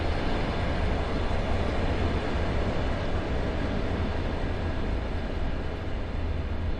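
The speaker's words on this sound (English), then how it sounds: "Bye, train." A train passes in the Train Sim World 2 simulator on the Sand Patch Grade route, giving a steady, loud rumble of rolling cars that holds evenly through the whole stretch with no voices.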